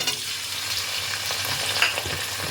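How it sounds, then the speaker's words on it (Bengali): Chopped tomato tipped into potatoes frying in oil, a loud close hissing sizzle with brief stirring scrapes, no voices. "আলুটা ভালোভাবে ভাজা হয়ে গেছে এবার আমি এর মধ্যে দিয়ে দিচ্ছি কেটে রাখা টমেটো কুচি"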